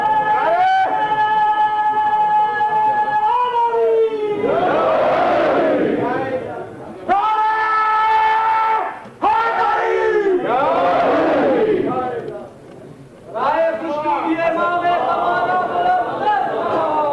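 A crowd at a religious gathering shouts slogans in unison, with loud, repeated bursts of massed voices rising and falling across the stretch, separated by brief pauses.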